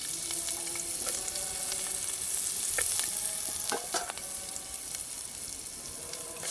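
Onions sizzle and crackle in a hot pan for a home-cooked dish, a steady frying hiss broken by a few sharp stirring scrapes, heard close and with no talking.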